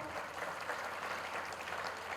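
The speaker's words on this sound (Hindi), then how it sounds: "मैं सम्मान में जोरदार ताली चाहूंगा आदरणीय लीलेन मानीपुरी सर" An audience claps steadily at an achievers recognition ceremony, a dense, even wash of applause honouring a mentor, with no break across its short span.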